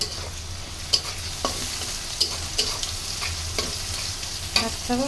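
Onions frying with whole garam masala spices in a pan, a continuous close sizzle broken by several sharp stirring scrapes and clicks at uneven intervals.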